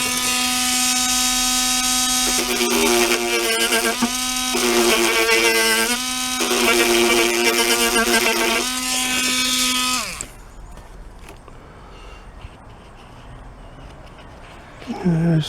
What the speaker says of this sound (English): I'm gonna run the sander line.